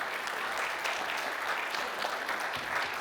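An audience claps through a voice-over panel at a convention, a dense, even wash of applause from a sizable crowd that holds steady the whole time.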